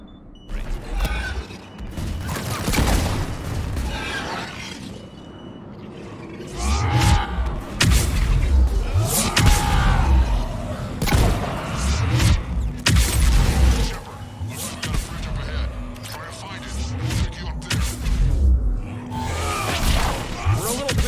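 Gunfire in a Mass Effect 3 Legendary Edition firefight: sharp shots and heavy booms burst irregularly over a steady mechanical hum, with voices speaking at times.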